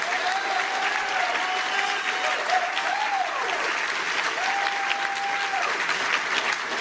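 Steady, sustained applause from a large crowd at a convention banquet in a DoubleTree hotel fills the whole stretch, dense and even, with a few faint voices carrying through.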